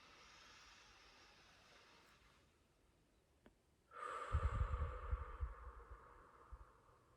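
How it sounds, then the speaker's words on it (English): Deep inhalation during a guided grounding breathing exercise: a quiet airy draw at first, then a louder, rougher in-breath close to the microphone in the second half, with no talking. "Breathing it back in."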